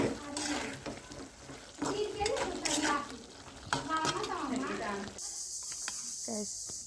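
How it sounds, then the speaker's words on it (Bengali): Fried meat pieces stirred and browned in a pan for a Bengali dish, a busy sizzle with scraping spoon strokes running throughout, near and steady, with a hissing close at the end; no speech. "ভাজা মাংসগুলো এখন কষাইতেছি মাংসগুলো কিন্তু সুন্দরভাবে কষতেছে"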